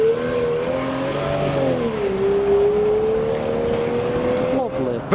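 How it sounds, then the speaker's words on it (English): A straight-piped V12 in a BMW 760Li pulls away from a car show. Its loud, steady exhaust drone sags briefly, then climbs again over background noise for about five seconds. "Finally, with Joel's 760 Li with the straight pipe V12 being blocked by some horses, but we can hear it."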